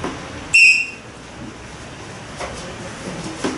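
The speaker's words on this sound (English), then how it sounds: "I check the whistle." One short, shrill blast from a lifejacket safety whistle, then quiet background hiss with faint soft knocks.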